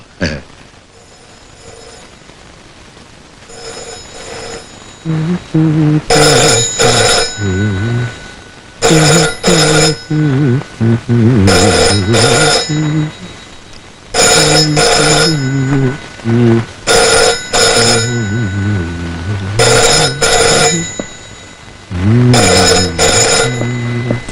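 A telephone bell rings loudly and repeatedly in a Malayalam film scene, sounding in regular long bursts separated by short pauses over a low background.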